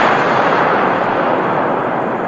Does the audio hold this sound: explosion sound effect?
yes